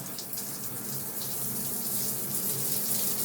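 Shower faucet running over a bathtub in a France apartment, a steady, loud hiss of rushing water that holds even throughout with no talking.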